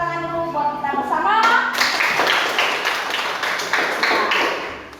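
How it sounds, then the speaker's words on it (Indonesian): A class of children clapping their hands together in a classroom, dense and loud after a short stretch of voices, steady rhythmic claps that fade out toward the end. "sebelum kita pulang, tepuk tangan dulu buat kita bersama."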